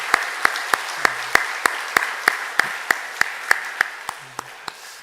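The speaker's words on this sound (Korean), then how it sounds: "우리 다시 한번 영광의 박수 올려드리겠습니다." A church congregation claps together in a steady rhythmic beat, about sixteen sharp unison claps that slow slightly toward the end, with faint murmuring in between.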